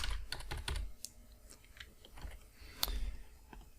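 Computer keyboard typing text, a quick run of light clicking keystrokes in irregular bursts, close and fairly quiet, with no talk.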